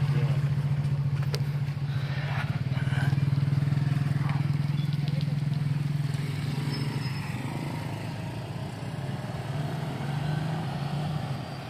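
A motorized tricycle rides through Carcar City, Cebu, its engine droning steadily with a low hum while traffic and road noise wash around it, close and continuous throughout.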